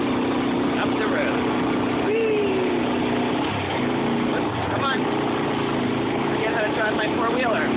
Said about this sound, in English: On my four-wheeler.